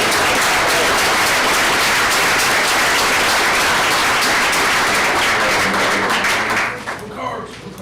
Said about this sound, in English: So a round of applause for the kids.